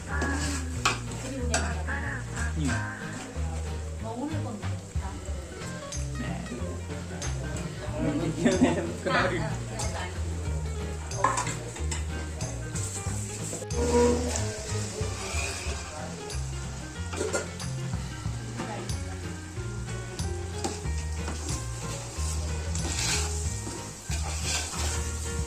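Mutton biryani masala is stirred in a pot, with a steady sizzle and frequent scraping, clinking strokes of a utensil against the metal, close up and continuous.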